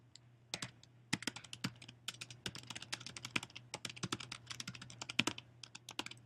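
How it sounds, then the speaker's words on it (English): Search terms are typed on a computer keyboard, a steady run of close, crisp key clicks in quick irregular bursts with short pauses, over a low hum and no speech. "So I'm going to type this in my search box."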